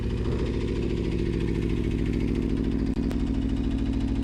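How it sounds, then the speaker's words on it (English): An Aprilia RSV4 RR motorcycle fitted with a slip-on exhaust idles close by, giving a steady, throbbing engine note with one brief dip near the end and no speech. "Just the slip on, the full exhaust is way too much. We got the slip right now."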